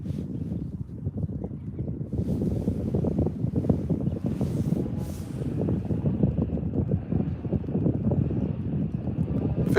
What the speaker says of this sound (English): Not the best spot with the wind blowing.